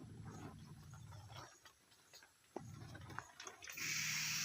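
A spray pump waters cauliflower nursery seedlings, soft intermittent spraying and dripping that gives way to a loud, steady hissing jet at the end.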